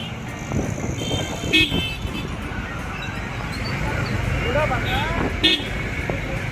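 Busy street traffic beside a crowded mango market in Nashik, with engines rumbling, two short car horn toots and people talking through the bustle.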